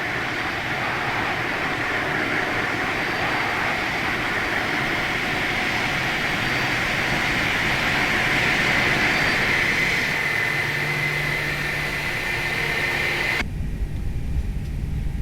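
An Airbus A319 engine spools up during start in a flight simulator, a steady broadband roar with a rising whine building over about fifteen seconds before cutting abruptly near the end, loud and continuous with no talking.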